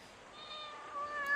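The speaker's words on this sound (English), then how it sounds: "I nearly forgot to mention that this is my cat, Keeper" A pet cat gives a single drawn-out meow, close and fairly clear, rising slightly in pitch toward the end.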